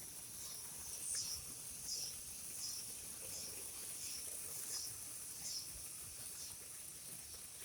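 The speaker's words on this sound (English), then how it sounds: "I believe cicadas is what's making all that noise" Cicadas in a yard drone steadily in a high buzzing chorus, with a faint pulsing swell roughly every second, heard alone at a moderate distance with no talking.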